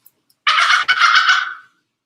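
Recorded dolphin calls played back at an event, two close, bright chattering squeals, the first about a third of a second and the second longer, with clean silence before and after.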